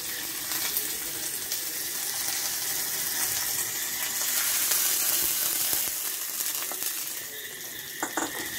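Hot tempering of dried red chillies and curry leaves poured into Kerala-style banana stem pachadi, a steady close sizzle and crackle that holds for several seconds, then thins out into light clinks near the end.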